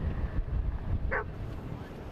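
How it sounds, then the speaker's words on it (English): Dogs bark on Ocean Beach in San Diego during a strong storm with gusty winds, one brief bark rising out of heavy, constant wind rumble against the microphone. "there's just a couple dogs out here"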